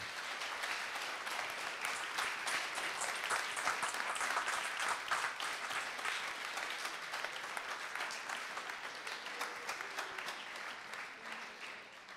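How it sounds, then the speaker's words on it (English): A conference audience applauds at a space event in Cologne, a steady wash of many hands clapping that swells slightly midway and then gradually thins out, with no one speaking over it. "I think we can give you a big applause for the live link"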